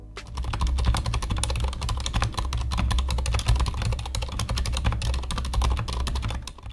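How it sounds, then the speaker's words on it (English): Steady typing on a Durgod Taurus K320 TKL mechanical keyboard with Cherry MX Silent Red switches, soft muted keystrokes clattering quickly and continuously, close up, with no voices. "Let's see how they sound like."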